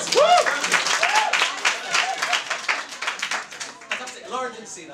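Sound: audience applause

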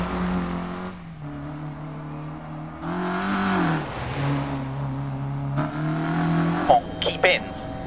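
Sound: Peugeot rally car engine in replay, Dirt 4 video game

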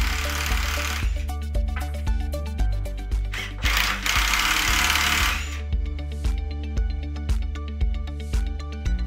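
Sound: shearing bolts of 3M mechanical shearbolt lug

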